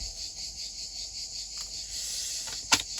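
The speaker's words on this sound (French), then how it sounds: "on entend beaucoup les cigales" Cicadas buzz steadily outside an open caravan door in summer, a dense high shrill drone that holds throughout, with a brief soft knock near the end and no speech.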